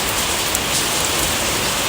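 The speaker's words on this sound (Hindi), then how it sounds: "बहुत खतरनाक बारिश हो रही है, बहुत ज़्यादा" Heavy monsoon rain pours down steadily, a dense and loud broadband hiss of drops striking surfaces, continuous and close with no pauses and no voices.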